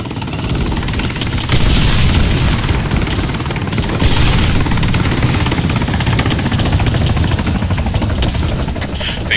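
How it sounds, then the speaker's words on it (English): A military helicopter in the combat game ARMA 3 churns out loud, continuous rotor and engine roar, swelling slightly at moments and holding steady throughout, with no voices. "I want you guys following that chopper"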